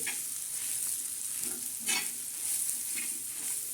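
Fresh green chickpeas are stir-fried in oil with garlic and green chilies, giving a continuous close sizzle with a few louder spatula scrapes and stirs.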